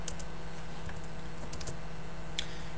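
A few soft, scattered keystrokes tap on a computer keyboard over a steady low electrical hum, quiet and close with no talking.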